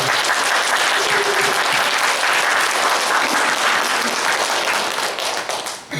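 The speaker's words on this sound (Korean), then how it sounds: "우리 격려의 박수 한번 드리겠습니다." A church congregation claps in encouragement for newly appointed members, loud sustained applause filling the hall for about six seconds before tapering off.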